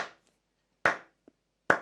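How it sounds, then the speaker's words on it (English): Three slow, deliberate hand claps, close and sharp, evenly spaced with silence between them and a faint tap in one gap. "a non-ironic slow clap."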